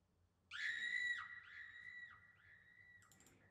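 A shrill scream rings out, then repeats several times as fading echoes, each quieter and more distant than the last.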